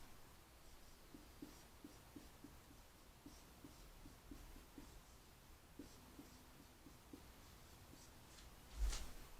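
A formula being written out during a math lesson on cubic polynomials, with faint, intermittent scratching strokes over a quiet room and a brief louder knock near the end.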